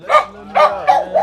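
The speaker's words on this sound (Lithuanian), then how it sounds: "Dog off the leash." A dog at an animal shelter gives three or four sharp barks in quick succession, close and fairly loud, with short pauses between them and no talk over them.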